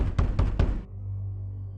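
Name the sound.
loud frantic knocking at a door, sound effect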